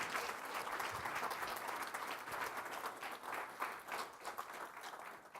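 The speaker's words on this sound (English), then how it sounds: "Let's have a big round of applause for Doc." A room full of people clapping at a city council meeting, steady applause that holds evenly for several seconds before easing slightly.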